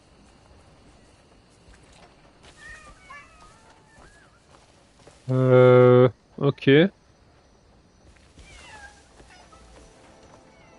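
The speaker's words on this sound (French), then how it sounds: "J'entends les chats, mais je ne les vois pas." Cats meowing in the video game Crimson Desert: two loud, drawn-out meows close together in the middle, with quieter game sounds and faint cat calls before and after, and a brief spoken word.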